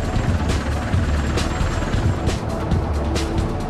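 A steady, heavy rotor thrum and engine roar from a V-22 Osprey tilt-rotor aircraft, loud and continuous, with a rhythmic beating pulse throughout.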